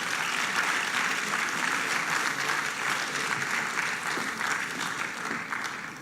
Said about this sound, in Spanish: Te perdiste una oportunidad para dar un aplauso al Rey de Reyes y Señor de Señores.